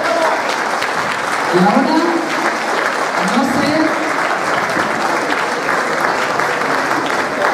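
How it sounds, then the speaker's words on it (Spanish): Audience applause for a municipal music band at a Christmas gala, sustained clapping from a hall crowd with a voice briefly speaking over it partway through. "Esto se merece un fuerte aplauso también."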